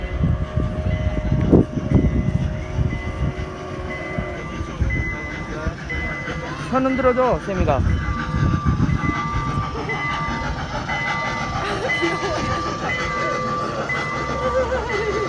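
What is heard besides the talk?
train passing by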